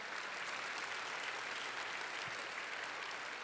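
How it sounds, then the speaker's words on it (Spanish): A church congregation applauds steadily in a broad, even wash of clapping from many hands, sustained without a break at moderate distance. "Dale el aplauso si se lo quieres dar."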